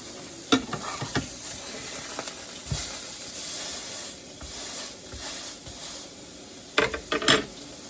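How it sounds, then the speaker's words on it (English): A simple burger patty sears in a hot pan, giving a soft, steady sizzle and hiss punctuated by a few sharper crackles and spits near the end, with no voices. "See that? Nice sear, nice pan sear."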